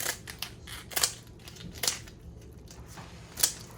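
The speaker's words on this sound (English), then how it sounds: "Okay, you cut it with the scissors." Kitchen scissors snip through a lobster shell in three or four sharp, crunching cuts spaced about a second apart, close and fairly loud with quiet handling in between.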